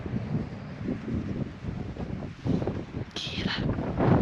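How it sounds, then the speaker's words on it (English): Strong gusting wind roars into the microphone on a mountain road in the Dolomites, Italy, as a storm with lightning and thunder approaches, a steady broadband rush that swells louder toward the end. "It's getting really windy"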